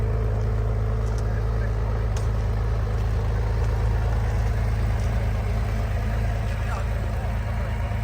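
A Honda CBX1000 Pro Link motorcycle, a rebuilt first-owner bike, running with a steady low engine rumble and a constant idle drone throughout, fairly close and even in level.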